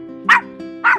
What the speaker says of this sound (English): Please don't bark at them.